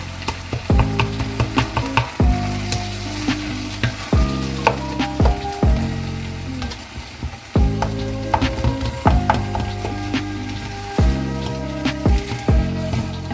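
Spinach with okra frying in a pan to cook off its water, a continuous close sizzle broken by repeated scraping and stirring strokes against the pan, with no talking.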